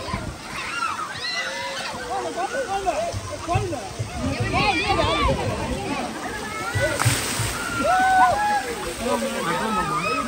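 Children splash and slosh in a water park pool near Tirupati, with continuous splashing under a lively babble of many young voices shouting and talking.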